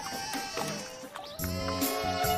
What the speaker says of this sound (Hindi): लगता है कोई बकरी फंस गई है